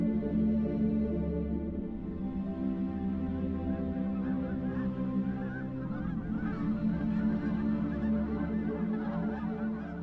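Geese honk continuously across a lake in the Canadian prairies, a dense overlapping chorus of many birds calling at once, steady and moderately loud with no voices.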